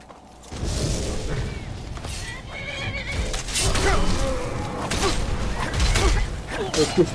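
A horse gallops in the video game Skyrim, with rapid hoofbeats and a whinny over a continuous game ambience of creaks and booms. The hoofbeats are close and steady for several seconds.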